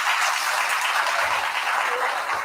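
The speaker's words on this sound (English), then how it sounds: "A big round of applause again for them." Audience applause for a band at a literature festival, a steady wash of clapping from a crowd, even and sustained throughout.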